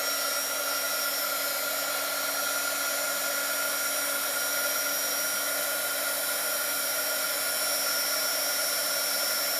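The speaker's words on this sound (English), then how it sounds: "take your embossing gun or your heat gun" An embossing heat gun blows a steady, loud, unbroken whoosh of hot air with a faint high whine as it melts embossing powder on a domino, running close for the whole stretch with no talking.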